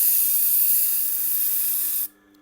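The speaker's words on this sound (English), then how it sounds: "Just dress that wheel again in case it's getting too smooth." A sharpening wheel is dressed during knife sharpening, making a loud, harsh, continuous hiss for about two seconds that cuts off abruptly, leaving a faint hum.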